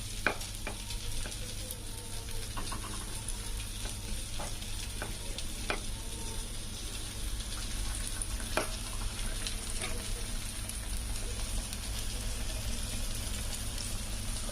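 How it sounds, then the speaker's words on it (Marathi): Pieces of fish frying in hot oil keep up a steady, quiet sizzle with faint crackles and a few sharp pops, heard alone and continuous throughout. "या तेलामध्ये आपण दुसरे पीस टाकूया"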